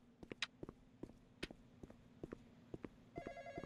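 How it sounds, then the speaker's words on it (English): A telephone rings inside a Roblox barber shop game, a short electronic ring near the end, preceded by scattered clicks and soft footsteps. "Answer the phone."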